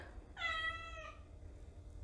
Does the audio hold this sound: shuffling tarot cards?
no